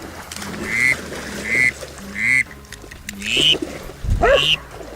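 A hunter blows a plain whistle with a finger plugging its end to mimic a drake duck, producing a series of short, reedy, rising peeps in uneven bursts, loud and close, with a few quacking notes toward the end.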